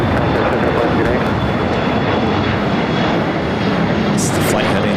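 A Condor Airbus A330neo jet in blue striped livery arriving from Frankfurt roars loudly and steadily, a continuous broadband engine rush with a voice talking over it.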